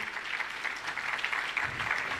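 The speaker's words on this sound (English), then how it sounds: "I encourage us to continue clapping" An audience at an Equity Group Foundation event claps steadily to welcome a speaker to the stage, with a continuous patter of many hands throughout and a faint murmur beneath.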